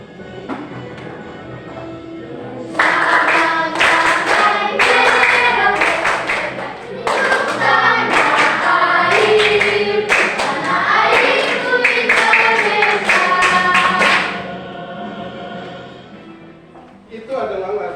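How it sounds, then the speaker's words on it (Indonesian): A standing audience claps along in a steady, energetic rhythm during an Indonesian national song, the dense clapping mixed with singing and voices, pausing briefly midway and fading out near the end. "Semuanya berdiri, bersemangat, tepuk tangan untuk kita sama-sama"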